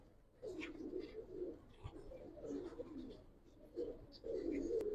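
Giribaz pigeons coo repeatedly in a quiet space, soft rolling coos coming in several bursts with brief pauses between them.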